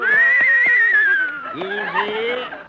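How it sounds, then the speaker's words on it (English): A horse neighs loudly in a long, wavering whinny that rises and falls, followed by a second shorter whinny, close and clear, with voices talking around it. "Look, Mr. Kitzel, is this your horse?"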